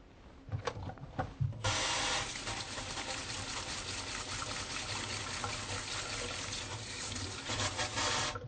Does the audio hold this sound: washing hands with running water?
yes